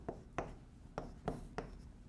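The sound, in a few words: writing during a lecture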